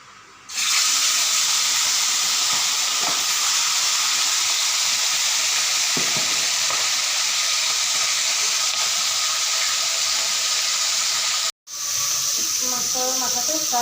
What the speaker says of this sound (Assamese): তাৰ আগতে মই মাছৰ মাথাখিনি ফ্ৰাই কৰি ল'ম